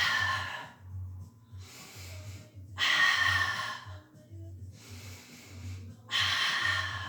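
During a Pilates mat exercise, quick, forceful breaths come in loud rhythmic bursts separated by short pauses, close to the microphone over a low steady background hum.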